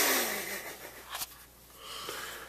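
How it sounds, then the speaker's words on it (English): A woman's big yawn at bedtime, a long breathy exhale that rises and wheezes briefly in the middle, then trails off into quiet breathing, close and fairly loud. "That yawn."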